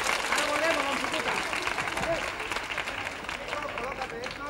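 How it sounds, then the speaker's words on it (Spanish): Children at a 1974 Christmas television show clap together in a dense, lively burst of applause, mixed with cheering voices and crowd noise throughout. "Y ahora un aplauso de todos los niños."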